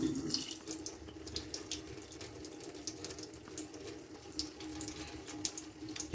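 Tap water runs steadily through a PUR faucet filter, a soft, continuous splashing stream with a faint hiss, fairly quiet and close, with no talk.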